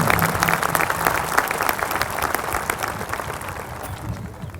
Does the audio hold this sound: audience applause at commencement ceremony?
yes